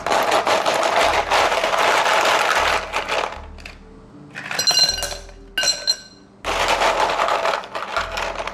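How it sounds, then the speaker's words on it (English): Ice cubes clink and rattle into a drinking glass, sounding as several close, bright bursts of clinking separated by brief pauses, with cubes settling against the glass in a late-night kitchen. "some ice in our glass"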